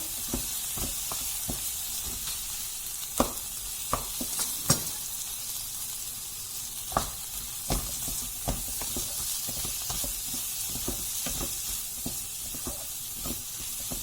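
Ground spices sizzling and frying in hot oil for a village chicken curry, a steady close hiss broken by sharp scraping clicks of a spoon stirring the pan, with no talk.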